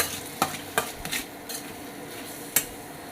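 Boiled eggplant frying in oil in a pan gives a soft sizzle, broken by several sharp clinks and scrapes of a utensil stirring against the pan.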